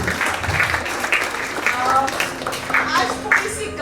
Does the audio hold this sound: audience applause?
yes